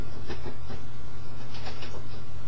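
A steady mechanical whir and rattle of a printer running continuously, close by, with rhythmic pulses as the paper feeds through.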